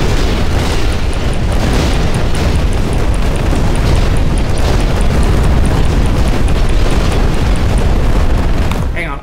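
Cannon shots and explosions in a video game, a dense, continuous barrage of loud booming blasts filling the whole stretch with heavy low rumble and no pauses.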